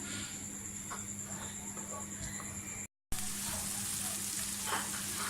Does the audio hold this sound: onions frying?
yes